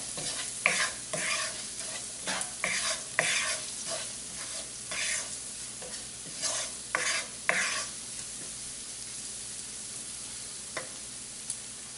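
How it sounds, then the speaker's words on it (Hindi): A spoon stirs garam masala, coriander powder, red chili and turmeric into onions in a pan for a lauki kofta curry, making repeated scraping strokes over a soft sizzle that settles to a quiet frying hiss. "इसको अच्छे से प्याज के साथ चला लेंगे ताकि हमारे मसाले भी प्याज के साथ पक जाए"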